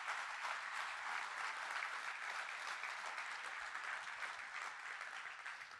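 Sustained applause from a large audience at an insurance agents' event, steady dense clapping filling the room at even loudness without a break.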